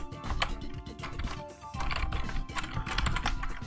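Quick typing on a computer keyboard while notes are written down, with close, fairly quiet key clicks in busy bursts and a short pause midway.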